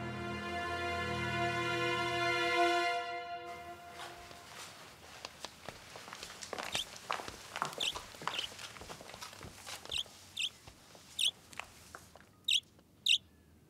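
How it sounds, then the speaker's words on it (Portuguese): Two pet parakeets chirp in short sharp bursts, scattered and irregular, following a sustained harmonic tone and light clicking sounds in a quiet room. "Olha, meus pássaros."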